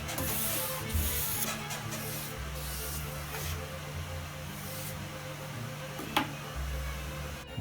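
Sandpaper of 320 grit rubs along a guitar fretboard in long, steady strokes, a continuous close, soft scratchy hiss with a brief knock near the end and no talking.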